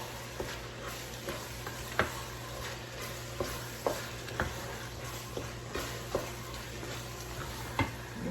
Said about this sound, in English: go ahead and start getting those ingredients stirred in